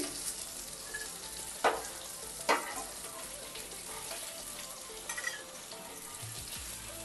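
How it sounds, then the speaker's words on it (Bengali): Fish pieces frying in oil, a soft continuous sizzle at a modest level with two sharper scraping knocks as pieces are turned or lifted, and no talk. "এগুলো কিন্তু ভাজা হয়ে গেছে বন্ধুরা, এবার এক এক করে আমি তুলে নিচ্ছি।"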